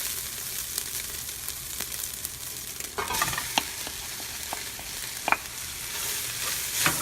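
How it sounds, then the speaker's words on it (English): Vegetables for a pasta dinner sizzle in a frying pan as they are stirred, a steady close crackle that grows louder partway through, broken by several sharp utensil clicks and scrapes. "We can now put our vegetables back in."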